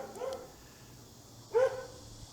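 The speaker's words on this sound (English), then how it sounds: "That's my neighbor's dog." A neighbor's dog barks twice outdoors on an overcast day, a short yip early on and a louder bark near the end, both at moderate distance over quiet background ambience.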